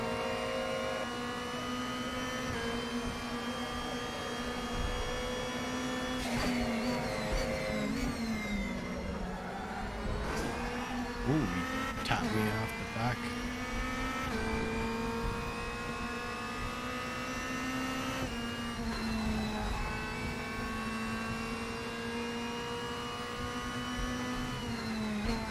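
Race car engines in RaceRoom, 2020 DTM machines at Aragon circuit, a continuous loud high-pitched drone with rising and falling revs, sharp downshifts and gear changes around the middle, holding steady near the listener for the whole stretch.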